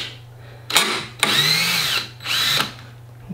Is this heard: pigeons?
no